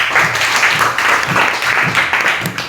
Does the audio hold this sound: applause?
yes